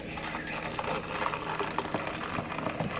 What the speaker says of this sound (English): now pour the juice in there